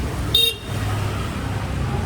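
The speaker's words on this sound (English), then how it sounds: "Traffic quite heavy" Heavy road traffic on a busy street in Kuta, Bali, with a steady rumble of passing vehicles and one short, loud car horn toot near the start.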